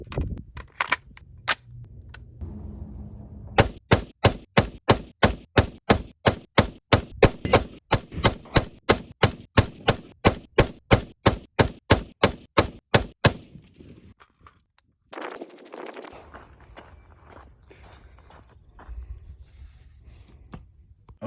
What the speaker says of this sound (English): Next up, we are going to shoot some more hand loads. It'll be a 77 grain Sierra Match King with N140.